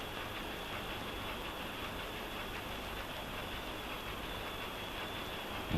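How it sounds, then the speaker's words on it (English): A large marine diesel engine runs steadily in a ship's engine room, a loud, continuous droning rumble with a constant mechanical hum and no talking. "The long lifetime of a good diesel engine is safeguarded by care"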